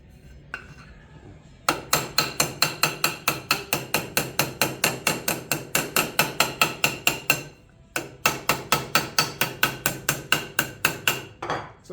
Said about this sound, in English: all you got to do is hammer it back